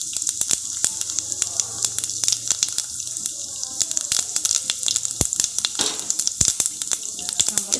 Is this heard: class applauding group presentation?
no